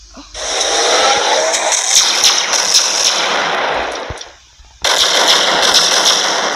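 Shotgun fire in a Roblox game, heard as loud, dense bursts of blasts that carry on for several seconds, drop off for a brief gap, then start again close up.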